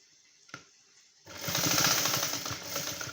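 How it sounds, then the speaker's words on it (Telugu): A sewing machine runs in one steady burst while stitching a prince cut blouse, its rapid needle chatter close and even after a faint click. "పైన ఒక కుట్టు వేసుకోవాలి"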